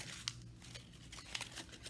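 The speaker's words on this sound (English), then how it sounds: "Let's crumple up our bag." A plastic bag being crumpled by hand gives faint, scattered crinkles and a couple of sharper rustling pops, heard alone at low level during a straw-painting craft session.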